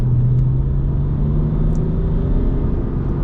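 Car with an upgraded Harman & Kardon sound system and 560Nm of torque, driven in sport mode, heard from inside as a loud steady engine drone with a rising tone as it accelerates toward 60, no talking.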